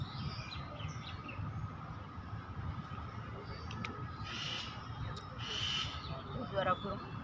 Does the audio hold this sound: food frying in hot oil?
no